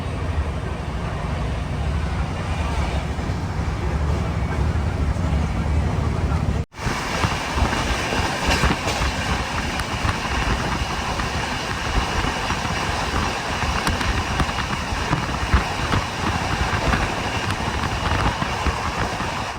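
Brindavan Express runs at about 120 km/h, its wheels and carriage giving a loud, steady roar with rushing wind from an open window and a brief sharp drop partway through.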